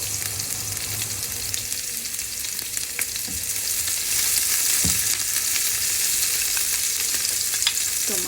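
Ginger, garlic and onion sauté in a pan with a steady, loud frying hiss that runs the whole time, broken by a few scraping stirs of a utensil against the pan.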